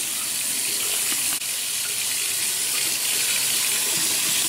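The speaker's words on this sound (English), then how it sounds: "I'm going to take this brush and put some warm water." Warm water runs from a tap onto a shaving brush, making a steady, close hiss of flowing water that carries on without a break.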